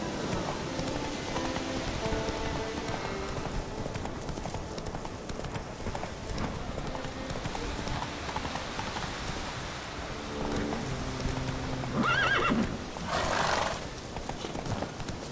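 Roach the horse trotting through rain in The Witcher 3, with steady rhythmic hoofbeats close by over a continuous rain hiss, and a brief brighter burst near the end.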